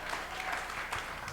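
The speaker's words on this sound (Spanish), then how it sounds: "Dele ese fuerte aplauso al Señor que vive para siempre." A church congregation applauds together in a dense, steady burst of clapping, with faint voices underneath.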